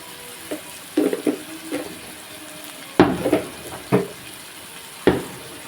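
Onions cook in a pan with turmeric and salt, a low sizzle under a few sharp scraping and stirring knocks spread across the clip, fairly close, with no talking.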